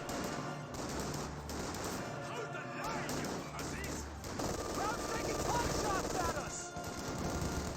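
Dense small-arms and machine-gun fire from infantry squads in a Company of Heroes 2 battle, a steady crackling fusillade with distant booms that runs through the whole stretch, layered with in-game voice callouts.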